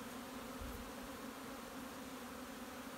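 Honeybees in an open breeder hive make a steady, close buzzing hum that holds at the same level throughout, with no voices.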